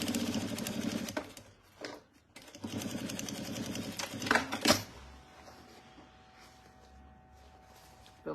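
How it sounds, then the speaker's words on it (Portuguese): Sewing machine stitching a fabric bread basket, rapid mechanical chatter in two bursts separated by a brief pause, then a sharp clack and quieter handling noise with a faint hum. "E vou pra máquina e faço de novo mais uma costurinha,"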